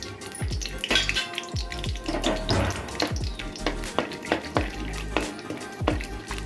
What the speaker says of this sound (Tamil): இதில் வந்து நம்ம இந்த முந்திரி திராட்சையும் நல்லா வறுத்து எடுத்துக்கலாம்